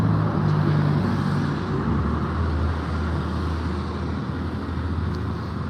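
Loud, steady engine drone and road rumble inside a moving city bus in Los Angeles, heard from a passenger seat, continuous with no talk.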